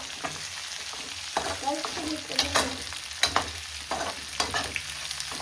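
Mint leaves fry in a pot of chicken sambar with softened tomatoes, sizzling steadily up close while a spoon stirs and scrapes in bursts, with no voice over it.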